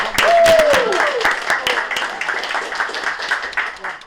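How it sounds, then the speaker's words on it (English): Audience applause at a live show recorded in a pizza restaurant, dense clapping mixed with cheers and a whistle, close and loud, with voices over it and fading toward the end. "let's applaud yourself"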